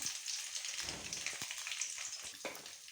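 Beaten eggs hit a pan of fried onions with a steady, soft sizzle, a faint continuous crackle with no one talking.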